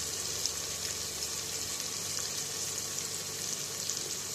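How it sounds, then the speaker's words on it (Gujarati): Chopped tomatoes cook down in a pan on the stove, giving off a soft, even sizzle and faint bubbling that continues steadily with no voices. "ટમેટાને પોછા કરે ત્યાં સુધી આપણે ચડવા દઈશું"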